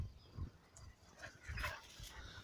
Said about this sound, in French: t'as des chiens qui se barrent de chez eux